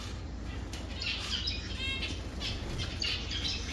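Several birds squawk and chirp repeatedly close by, with rustling and flapping in the background.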